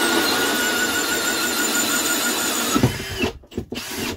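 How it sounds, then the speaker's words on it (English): A power drill whines steadily at close range, drilling a hole in a retro caravan, then stutters and cuts out in short bursts as the hole finishes. "Let's get a hole drilled."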